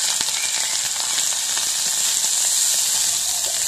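Dried baby shrimp frying in hot coconut oil produce a loud, dense, continuous sizzle and crackle, close and steady for the whole stretch, with no talking.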